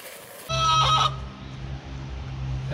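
A rooster crows once, short and fairly close, at a homestead where a goat shelter is being framed, above a steady low rumble that continues afterward.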